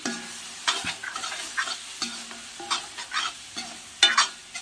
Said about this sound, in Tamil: இப்போ நம்ம எடுத்து வச்ச மசாலாவை இதில் சேர்த்துட்டு கொஞ்சமாக ஒரு வதக்கிக்கலாம்